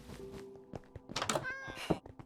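A cat in modded Minecraft gives a short meow near a stone village building, with a few soft thunks around it in a brief, fairly quiet moment.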